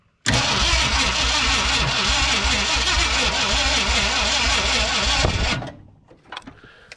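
A 1969 or 1971 Ford F100 pickup's engine cranks steadily for about five seconds without catching, a loud rhythmic churning of the starter that then stops abruptly.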